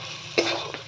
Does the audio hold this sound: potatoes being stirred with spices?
yes